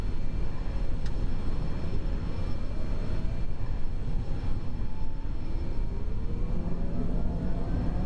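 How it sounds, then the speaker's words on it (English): Simulated aircraft engine in X-Plane 11 settling into a running state after starting, a dense, steady roar with faint gliding whine tones and a brief crackle near the start. "That crunchy sound you just heard, that's pretty much when it starts coming on."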